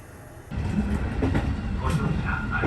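Kintetsu local train bound for Tenri running after its doors close, a steady low rumble of wheels and motors that swells at the start and continues throughout, with faint rail clatter.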